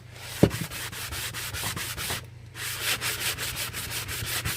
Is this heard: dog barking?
no